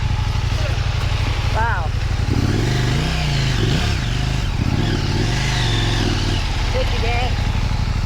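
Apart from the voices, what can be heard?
KTM 890 Adventure Rally motorcycle revving, stuck in mud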